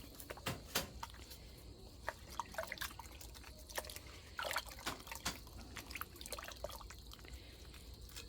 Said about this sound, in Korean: 그 다음에 또 다른 것도 또 씻어 볼게요